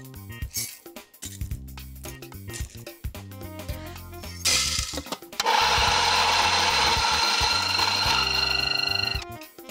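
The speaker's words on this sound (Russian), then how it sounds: "Пока нагревается посуда, нам нужно помолоть зерна." Coffee beans, 20 grams, ground fresh in a grinder, a loud steady whirring grind starting midway and running continuously to the end, preceded by clattering handling and preparation noises.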